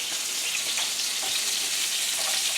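Lamb chops, fairly thin, sizzle and fry steadily in a pan, a dense, continuous crackle of hot fat close up with small pops and no talking.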